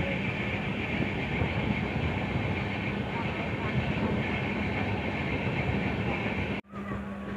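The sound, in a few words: Diva Sawantvadi Express train running on Konkan Railway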